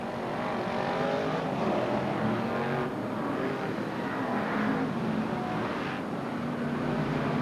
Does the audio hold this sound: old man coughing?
no